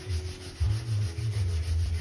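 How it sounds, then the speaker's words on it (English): Steady rubbing of sandpaper over the body panel of a black Nissan 350Z during dent repair, a close, continuous scrubbing in repeated strokes with no talking. "you sand that"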